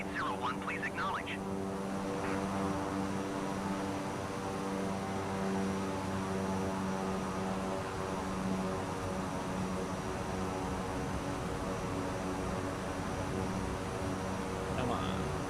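A Beechcraft propeller plane in flight gives a steady, loud engine drone that holds without a break, with a voice speaking over it now and then.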